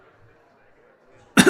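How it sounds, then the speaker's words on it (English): A single faked cough bursts out loud and close at the very end, after near-silence, during a tabletop game session. "Maybe if I fake this cough for another 24 hours I can get out"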